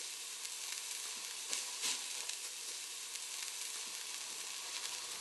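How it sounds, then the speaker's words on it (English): Meat searing on each side to a dark brown in a pan on a stovetop, giving a steady, close hiss of frying with a few brief louder pops and crackles throughout. "sear the meat on each side to a dark brown"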